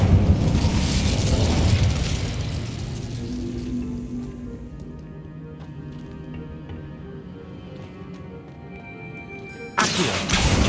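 Incendio fire spell cast in Hogwarts Legacy during a finale battle, a loud fiery blast that roars and slowly fades into a low rumbling tail before another sharp burst near the end.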